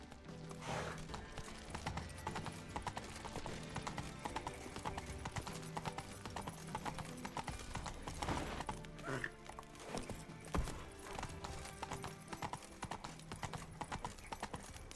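A horse gallops at speed in The Witcher 3, its hooves drumming in a quick, steady clip-clop that runs the whole time under layered game sounds, with a brief whinny.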